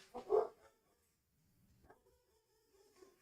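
Indoor dogs give one loud, close bark at the start, then a couple of fainter, short yips follow after a quiet pause.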